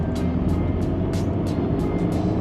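A Škoda Superb with a 110 kW diesel engine speeds up on a highway, a steady loud cabin drone of engine and road noise with several short higher swishes passing through.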